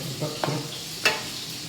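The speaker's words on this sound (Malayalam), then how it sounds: "ഇതുപോലെ നമുക്ക് വെളിച്ചെണ്ണയില്ലേ ഇട്ടിപ്പോൾ വറുത്തെടുക്കാം." Soft sizzling of bread frying in hot coconut oil, with a couple of brief stirring scrapes and clinks over a steady hiss.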